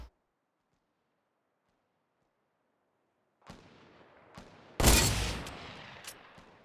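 Gunfire in Fortnite Battle Royale breaks a near-silent start with a few sharp single shots, then one loud, longer burst, followed by scattered fainter cracks.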